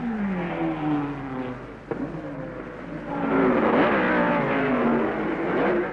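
A pack of 1950s Formula 1 race cars sweeps past in a race, their engines roaring and sliding in pitch as they go by, loud and close, with more cars following in a rising rush.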